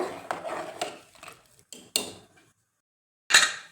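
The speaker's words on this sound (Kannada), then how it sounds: "ಇವಾಗ ಇದಕ್ಕೆ ಒಂದು ಒಳ್ಳೆ ಮಿಕ್ಸ್ ಕೊಟ್ಟು" A spoon stirs a salted food mixture inside a pressure cooker, giving a few scraping, clinking strokes against the metal pot, close and fairly loud, separated by short pauses and a brief silence before a final sharp scrape.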